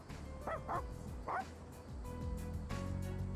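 Dogs from the video game Persona 3 Reload bark and whine in short yips and whimpers, several quick bursts early on, then a lower whining tone against steady game background music.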